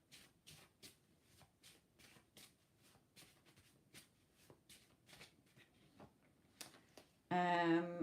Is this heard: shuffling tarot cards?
yes